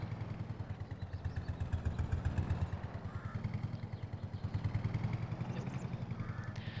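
Old tractor engine in Farming Simulator 22, running steadily with a low, pulsing mechanical chug throughout, loud and close, with no voices.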